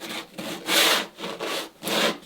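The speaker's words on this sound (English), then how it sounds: "One trick is to take sandpaper. In this case I'm using my self-adhesive stuff," Stiff self-adhesive sandpaper rubs back and forth through a joint between wooden boat planks, giving four rhythmic rasping strokes, close and fairly loud, with no talk.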